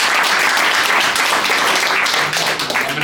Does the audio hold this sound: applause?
yes